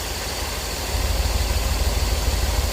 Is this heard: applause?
no